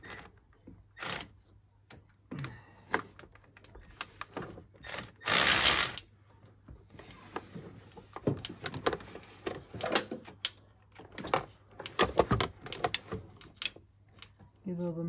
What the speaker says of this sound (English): Cordless ratcheter, trusty old Milwaukee one, on to wind that bolt out.